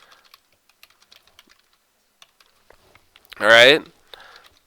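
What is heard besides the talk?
typing on a computer keyboard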